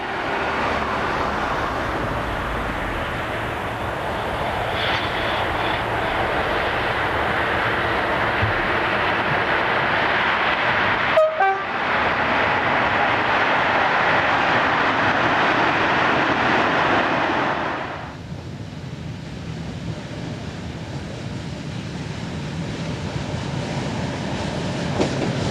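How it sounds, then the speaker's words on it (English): A dual-voltage electric locomotive, number 25531, hauls a loaded steel slab freight train past at Somain, a loud, steady rumble of wheels and wagons that cuts off sharply near the end, leaving a quieter background. "Another dual voltage electric in the shape of 25531 is seen on this loaded steel slab working."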